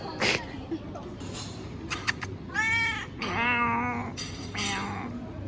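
A nine-month-old kitten meows loudly several times in short, rising cries, close up, over a murmur of background voices and room noise.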